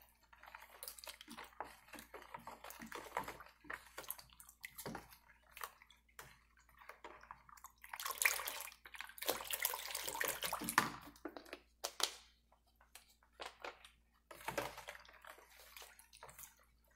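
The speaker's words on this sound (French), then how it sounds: "On met de l'eau." Water is poured into a container while preparing Grenada ice cream, a faint uneven splashing and trickling that swells and eases in bursts, heard alone at low volume.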